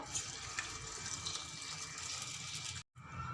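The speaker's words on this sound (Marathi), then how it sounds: "आता या ठिकाणी पोहे धुवून घेते मी" Water runs steadily with a splashing rush as flattened rice (poha) is rinsed under a flow, continuous until a brief cut near the end.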